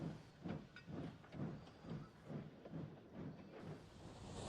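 A steam locomotive pulling empty coaches at night, its rhythmic chuffing pulses repeating about every half second in a steady beat with a soft hiss underneath.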